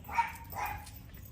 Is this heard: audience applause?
no